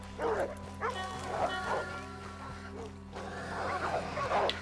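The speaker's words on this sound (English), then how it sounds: "Is it a fucking dog?" A dog in the Red Dead Redemption 2 video game barks in several short bursts against a steady low engine-like drone and insect buzz, with brief gaps between barks.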